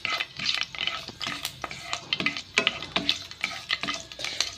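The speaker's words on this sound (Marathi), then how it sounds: "तेल गरम जालें, तितून आतां मेथी घालता इल्लीशी आनी ती मातशें भाजिता मेथी" Fenugreek seeds fry in hot oil with a soft, steady sizzle, broken by repeated close scrapes and clinks of a spoon stirring the pan.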